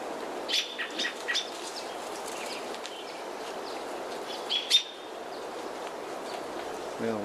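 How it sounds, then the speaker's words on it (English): Robins in a yard feeding on berries give scattered short chirps and calls, with a few brief wing flaps, fairly faint against a soft outdoor background hiss. "this robin doesn't seem to be in a big hurry, just taking its time, picking and choosing the berries it likes."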